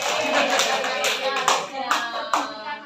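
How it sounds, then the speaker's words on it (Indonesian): A small group claps with scattered, uneven hand claps close by, brief and fairly loud, no voices over it. "Tepuk tangan."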